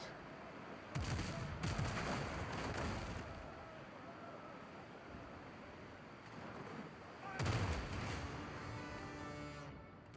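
Ship cannons fire in the pirate game Windrose in two separate heavy volleys several seconds apart, each a booming crack that trails into a rumbling tail over a quieter backdrop of sea and ship sounds.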